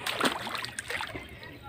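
Wading through knee-deep flood water inside a house, a burst of splashing and sloshing close by at the start that settles into softer churning water.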